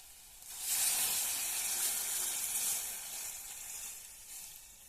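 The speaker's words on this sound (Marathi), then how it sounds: "आता आपला कांदा आणि पत्ता मस्त परतलाय" Onion and leaves sizzling in a hot pan with besan, a steady loud frying hiss that swells after a quiet start and holds, with no voices.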